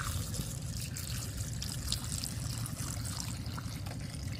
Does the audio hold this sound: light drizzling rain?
no